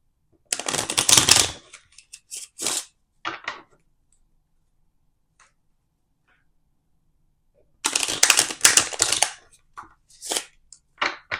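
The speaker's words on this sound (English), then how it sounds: "let me give it like 2 more shuffles here." Two bursts of crisp riffle shuffling with cards fluttering rapidly, separated by several seconds of near silence.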